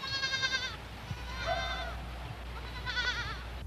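Goats bleating in three separate wavering cries over a low background hum, moderately close.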